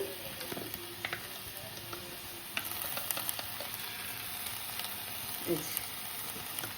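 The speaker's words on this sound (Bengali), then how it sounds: "তো এবার এগুলো আমি একটু ভেজে ভেজে নেব" Papaya and capsicum fry in a pan with a steady low sizzle, and scattered spatula taps and scrapes recur throughout as the pieces are turned, fairly quiet and with no speech.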